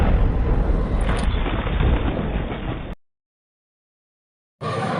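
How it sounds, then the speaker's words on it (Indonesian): A loud rumbling explosion from the 2021 James Bond film No Time To Die roars for about three seconds and cuts to silence. A burst of noise follows after the gap. "beruntung Bond selamat dari ledakan tersebut"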